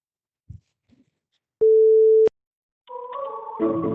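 Telephone call going unanswered, with a single clear electronic tone followed by a warbling ring tone and faint clicks on a quiet line.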